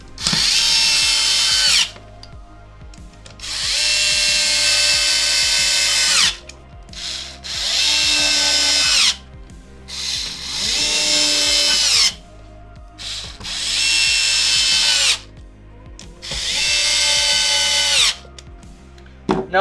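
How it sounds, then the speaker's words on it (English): A power screwdriver drives the six body screws into an Xbox One X console casing, running in repeated loud whirring bursts of about two seconds each with short pauses between, close up and without talk. "now you can put in your body screws. There's 6 of them."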